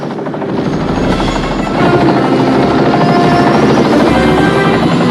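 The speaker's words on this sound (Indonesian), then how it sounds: "Falcon datang dengan helikopter pribadinya." A helicopter in a movie scene arrives with a loud, close, continuous rotor chop and turbine roar, swelling in volume partway through and then holding steady.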